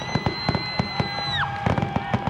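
Fourth of July fireworks burst in a rapid string of sharp bangs and crackles, repeated every fraction of a second, with a high whistling tone gliding down beneath them.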